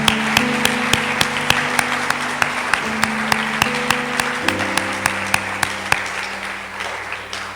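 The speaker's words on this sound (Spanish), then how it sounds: "Un fuerte aplauso para Dios." A church congregation applauds during a Sunday sermon, a steady dense round of clapping that holds evenly, with a sustained keyboard or organ chord sounding underneath throughout.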